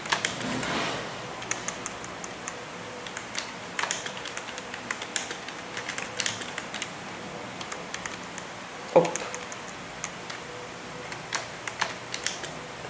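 Typing on a computer keyboard, with irregular light key clicks and a few louder taps close by. It runs steadily with no talk.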